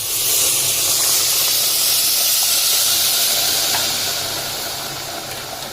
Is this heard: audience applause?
no